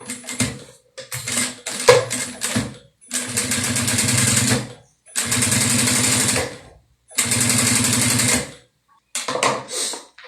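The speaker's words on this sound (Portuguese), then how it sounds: "eu vou passar aqui a costura do outro lado" Sewing machine stitching a silicone beach-bag strap, running in several loud close bursts of rapid mechanical whirring separated by short pauses, with no talk.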